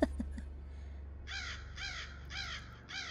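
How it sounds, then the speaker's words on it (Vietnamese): Crows give four harsh, evenly spaced caws at moderate distance, following a few sharp knocks at the start over a faint low hum. "lũ quạ dường như ngửi thấy mùi xác chết, bắt đầu kêu lên những tiếng thất thanh nghe vô cùng đáng sợ"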